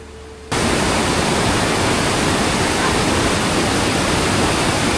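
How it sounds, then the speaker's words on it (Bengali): Kanchenjunga waterfall in Pelling, Sikkim, roars as a dense, steady rush of cascading water, loud and unbroken after a brief quieter moment at the start. "আর ওই দিক দিয়েও একটা জলের ধারা নামছে।"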